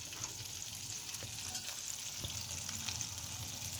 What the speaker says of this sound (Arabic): تخليها في الزيت السخن